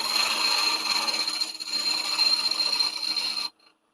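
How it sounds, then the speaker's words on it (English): A skew chisel cuts wood on a lathe while turning a small Christmas tree, giving a steady rasping, scraping hiss with a short dip partway through, then stopping abruptly near the end. "So we're going to try this skew."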